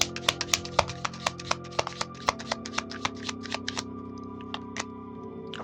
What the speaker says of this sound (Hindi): So let me shuffle few more cards for the third party situation.